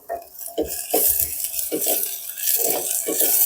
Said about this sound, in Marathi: कांदा भाजलेला आहे आपला आता टोमॅटो टाकून घेऊया